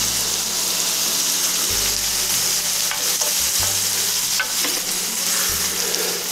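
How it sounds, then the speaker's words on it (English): Baby bella mushrooms fry in butter and olive oil over high heat, a loud, close, constant sizzle with occasional stirring scrapes and low thumps from the pan. "They're definitely frying."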